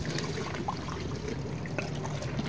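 Excess rainwater being poured out of a spinach planter, a soft continuous trickling and splashing of water heard close up for a few seconds.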